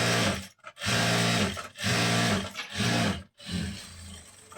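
A sewing machine stitches lace trim onto a blouse lining, running in four loud, close bursts of rapid mechanical whirring separated by brief pauses.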